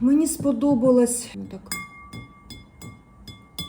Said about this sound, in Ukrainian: такий от дзвін має скла